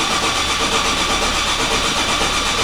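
Ford Ranger pickup engine cranking and catching, a steady loud mechanical drone with a rumbling low end that holds even and close throughout, no voices over it.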